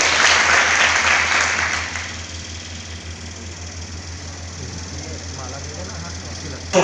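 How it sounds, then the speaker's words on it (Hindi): Audience clapping at a Shrimad Bhagavat Katha religious gathering, loud at first and then fading to a softer patter over a steady low hum, with voices audible in the background. "एक बार आप जोरदार तालियों से उनका हार्दिक अभिनंदन और वंदन करें"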